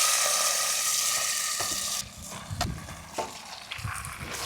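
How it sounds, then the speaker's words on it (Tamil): Masala-mixed beef dropped into hot oil in a pan, a loud steady sizzle that settles into quieter frying with stirring scrapes and pops. "இப்போ நம்ம புதுவிதமாக மசாலா மிக்ஸ் பண்ணி வச்ச பீஃபை அப்படியே தட்டிடுவோம்."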